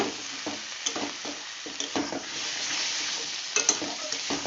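Cauliflower and potato curry stir-fried in a pan with a little water added, giving a steady close sizzle and bubbling with scraping stirs throughout, no voices.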